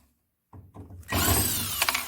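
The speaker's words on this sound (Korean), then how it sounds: "기판을 고정하고 있는 나사 하나, 둘, 셋, 네 개를 제거를 합니다" Power screwdriver backing out the screws that fix the main circuit board of a Samsung 10 kg Wobble washing machine, model WA10F5S2QWW1: a couple of short bursts, then a steady close whirring run.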